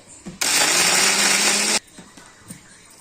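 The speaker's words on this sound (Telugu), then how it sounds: "పల్లీలు, నువ్వులు, ఉల్లిపాయ ముక్కలు, టమాటా ముక్కలు వేసి మళ్ళీ ఒకసారి గ్రైండ్ చేసుకోవాలండి." A mixer grinder blitzing peanuts, sesame seeds, onion pieces and tomato pieces for a stuffed brinjal curry masala: one loud, steady whirring burst of about a second and a half, then a few quiet knocks.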